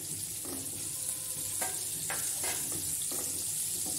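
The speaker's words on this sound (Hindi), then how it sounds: "हम इसमें अदरक डालेंगे। ऑयल गर्म है, अदरक को मैंने काट लिया था हल्का सा।" Ginger and green chillies sizzle in hot oil in a pan, with a steady frying hiss and a few short stirring scrapes, heard close and without talk.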